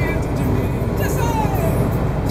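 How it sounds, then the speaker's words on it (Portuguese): A bus rolls past on a street outside a home, heard as a loud, steady engine and road rumble with a slowly shifting whine and a brief low thump at the end. "Aí o ônibus aí."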